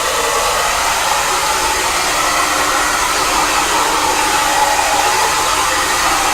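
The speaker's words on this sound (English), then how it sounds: "So just blow drying it into the shape we want" Close, loud hair dryer blowing hair into shape on a client's haircut, a steady broadband whoosh held without pause.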